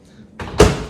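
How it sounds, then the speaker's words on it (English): A single thud of a microwave door shutting, close by, with a brief rattle before it. "simply close the microwave."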